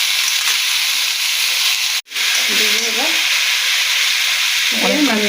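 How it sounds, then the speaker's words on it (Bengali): Beetroot and carrot sizzle and fry with spices in a pan for a chapati-style vegetable curry, a steady loud hiss with a brief sharp break and some stirring scrapes. "বিট গাজরটা ঢেলে দিলাম"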